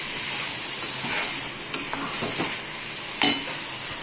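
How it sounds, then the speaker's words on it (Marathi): A vegetable being stir-fried with crushed peanut powder crackles softly in a pan while it is mixed, with scattered stirring scrapes and a single bright clink of utensil on metal. "आता भाजी परतून घेऊया, सगळी मिक्स करून घेऊया।"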